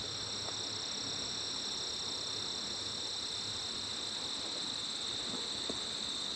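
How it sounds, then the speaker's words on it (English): Insects related to grasshoppers chirp in a dense, continuous high-pitched drone outdoors, steady and fairly loud throughout with no talking. "All of these insects that are related to grasshoppers."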